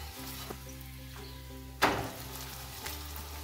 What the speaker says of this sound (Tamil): அடுப்பை வந்து மீடியம் ஃப்ளேமில் வச்சு தான் நம்ம ஃப்ரை பண்ணணும்.